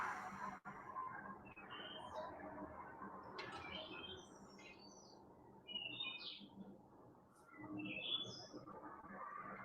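Birds chirp outdoors in short, scattered high calls repeating throughout, fairly faint over a steady background hiss and low rumble.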